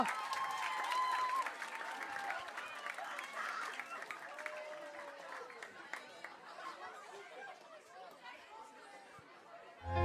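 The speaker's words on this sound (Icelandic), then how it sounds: "Gefið honum gott klapp, maður sjá." An audience claps and chatters for a rapper taking the stage at Rímnaflæði 2025, a youth rap contest in Breiðholt, with applause loudest in the first seconds, then tapering under crowd murmur and a host's voice.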